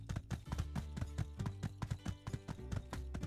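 Steady rhythmic clip-clop of a horse's hooves trotting in the video game My Time at Sandrock, close and clear, with a low background hum and no talking.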